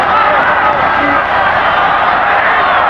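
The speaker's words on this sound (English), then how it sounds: "The crowd is getting into the ball game now" A loud, steady roar from a football stadium crowd fills a USFL game between the Birmingham Stallions and Jacksonville Bulls, a dense wash of cheering with a voice talking over it.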